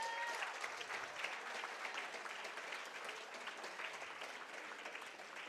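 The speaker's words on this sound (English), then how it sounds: "Give him a hand clap, give him a hand clap." A crowd applauds the winner at the Houston Internationals martial arts finals, a dense, steady wash of clapping that lasts throughout with a voice faintly audible beneath it.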